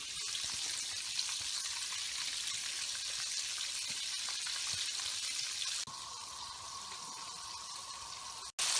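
Chicken breast pieces frying in a pan, a loud continuous crackling sizzle that drops slightly in level partway through before a short break and a return at the end.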